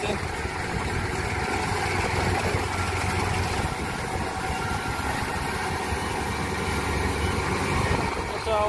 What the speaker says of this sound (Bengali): আমাদের নিজের ধানকে মেশিন দিয়ে কাটতে